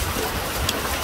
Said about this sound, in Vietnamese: đấy, mưa.